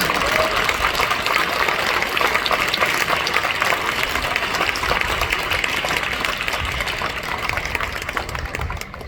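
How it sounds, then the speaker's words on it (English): Audience at a school spring concert applauding, a dense, steady, loud wash of many hands clapping that holds for several seconds and tapers slightly at the end. "it's you that deserves the applause"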